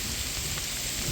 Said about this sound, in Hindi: अभी ओले थोड़े हल्के हुए हैं